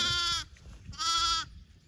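Young lamb bleating in a spring sheep pasture during lambing season, two clear close calls separated by a short pause, with faint grassy background and no talk.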